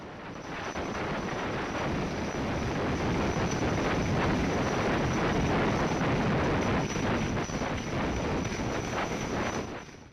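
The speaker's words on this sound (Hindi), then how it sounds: "तो ये तस्वीरें हम आपको दिखा रहे थे कैसे हेलीकॉप्टर से रेस्क्यू किया जा रहा है" A rescue helicopter flies over floodwaters, a dense steady rotor and turbine roar with wind buffeting that fades in and out over ten seconds, no voices.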